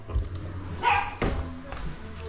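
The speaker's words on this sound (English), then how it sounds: "What are you barking at" A dog barks a few times, two or three short sharp woofs spaced apart, fairly close, with some background rustling.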